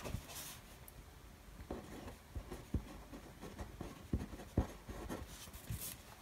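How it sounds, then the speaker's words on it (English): A fine-tip Micron pen writes on a sticker book page, giving faint, close scratchy strokes with small taps at an irregular pace. "And I'm going to use this micron because it's a fine tip. And I'm just going to write seasonal on this line."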